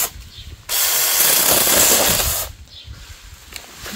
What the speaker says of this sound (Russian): Классная штука эта пилка. Ну, чуть подзастревает, но раз, раз и все.